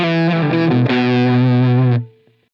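Electric guitar through a Line 6 Helix using a Plexi amp model with the Brit Plexi Bright blended out, loud crunchy strummed chords in a short riff that stop abruptly and decay.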